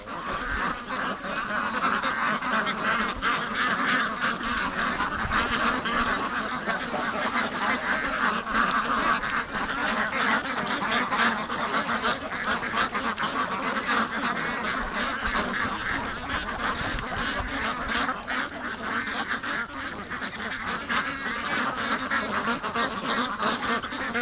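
Free-range ducks, Muscovies among them, gather on a lake, their honks and quacks blending into a dense, steady chatter over continuous background noise for the whole stretch.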